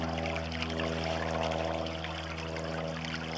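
Creek water ripples and pours steadily near a restored stream bed below a dam, a continuous close rushing trickle with a low steady hum beneath it.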